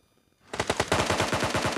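Rapid automatic gunfire in a video game bursts in suddenly after a brief quiet, a loud, close, evenly spaced stream of shots lasting over a second, no talk.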